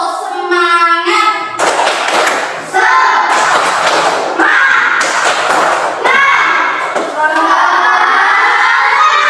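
A class of children performing a rhythmic clapping chant, loud bursts of unison hand claps and shouted voices in a repeating pattern, close and lively.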